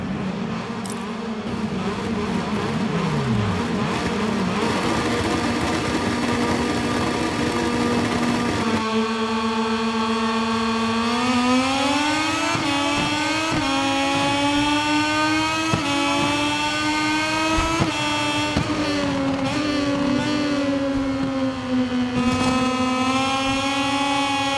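A Moto2 racing motorcycle engine screams on track in GP23, loud and close, idling at first, then revving hard and shifting up through the gears as it pulls away and holds high revs.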